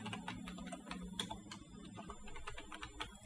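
Someone types ordinary text into an Excel spreadsheet on a computer keyboard, making quick, irregular clicks of the keys. The sound is close but quiet, a soft continuous patter with no speech over it.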